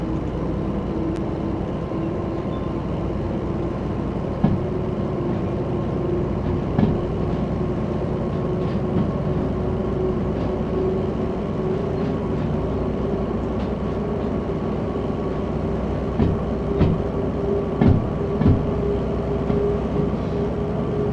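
A DH4 diesel locomotive in the train simulator game Derail Valley runs with a steady engine drone and a constant low hum, with faint clicks and knocks now and then over the whole stretch.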